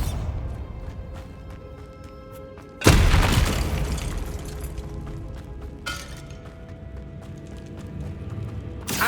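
An explosion spell cast in Hogwarts Legacy: a sudden loud, broad blast about a third of the way in that slowly decays, then a second smaller burst, over a steady game soundscape.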